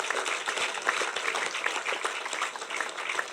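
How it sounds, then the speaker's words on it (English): A crowd of residents at a community meeting with the President at the Goed Fortuin Housing Scheme applauds, a steady, fairly faint wash of clapping heard from a distance. "I think you need a round of applause."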